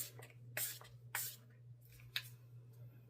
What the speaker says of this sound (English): I'm going to go in with a setting spray, a hydrating spray, a nourishing spray